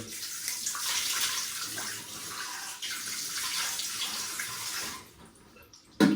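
Cold tap water runs steadily into a sink for several seconds while rinsing the face after a shavette shave, a close, continuous splashing hiss that eases off near the end, followed by a brief knock.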